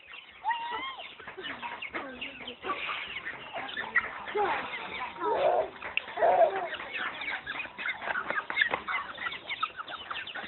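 Chickens cluck and murmur nearby across the clip, with soft voices and handling noises mixed in.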